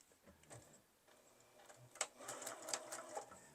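A sewing machine back stitches the seam of a fabric iPad case, making quiet, uneven mechanical ticking and whirring in short bursts that grow busier partway through.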